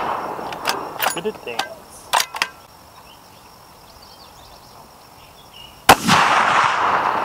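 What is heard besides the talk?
50 BMG rifle shots hitting steel target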